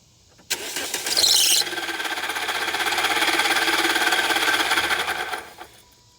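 A worn big pulley on a farm machine squeals loudly and continuously for several seconds as it spins up, holds a harsh whine over mechanical rumble, then winds down.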